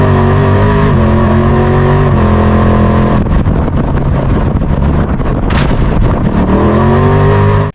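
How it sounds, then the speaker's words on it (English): An AI-generated dune buggy races flat out across desert dunes and jumps a ridge, with a loud, high engine rising through gears, a stretch of rough wind-buffeted roar, and a sharp burst before it cuts off. "We're taking a high-performance dune buggy across massive desert dunes at full speed, then launching it right over a huge ridge"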